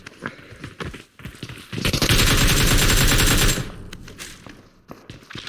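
Rapid automatic gunfire in a shooter game rattles out as a loud, sustained burst of about two seconds, framed by scattered single shots and footsteps before and after.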